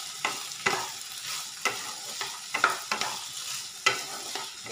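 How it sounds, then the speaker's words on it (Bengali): Raw potatoes and cauliflower frying with turmeric and salt in a pan, a steady sizzle broken by repeated scraping strokes of a spatula stirring the pieces, close and moderately loud. "এবার আমি ঢাকা দিয়ে ভাজবো"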